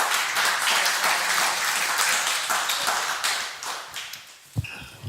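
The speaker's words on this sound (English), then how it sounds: "give a round of applause to our speaker" An audience gives a speaker a round of applause, a dense burst of clapping that is loud at first and gradually thins out, ending with a few scattered claps and a brief voice.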